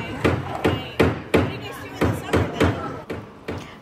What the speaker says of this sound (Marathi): तिथे समस्त ठोकायचा हातोडीचा आवाज येत होता